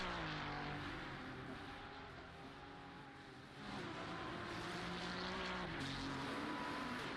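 A mid-engine Ferrari race car in a sim racing game at the Nürburgring hums with a steady engine tone that dips as it lifts, then climbs again when throttle is reapplied, with other cars faintly nearby.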